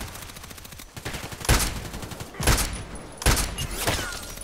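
Rapid gunfire in the online shooter Contract Wars comes in three sharp, loud bursts about a second apart, with quieter background game noise between them.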